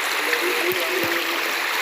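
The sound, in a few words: strong flowing river water in a stream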